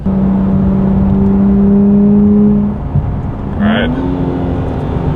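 2023 Nissan Z Performance engine heard from the cabin in manual mode with paddle shifters on a hot day: a steady droning note that drops off for a downshift, then a quick rev blip and a renewed, higher drone.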